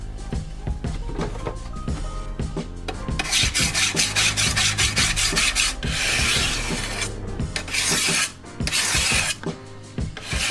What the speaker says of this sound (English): Sharpen this side a bit more